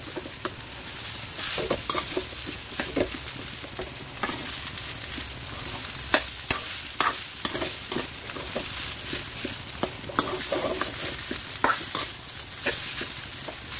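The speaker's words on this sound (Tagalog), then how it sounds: "Saka ako magigisa ng gulay" Vegetables sauté in a hot pan, a continuous crackling sizzle broken by frequent scraping and clinking of a spatula stirring the pan, close and steady throughout.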